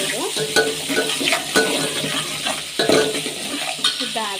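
Greens sizzle steadily in hot oil in a pan, with the scrape and clink of a spatula stirring at close range throughout.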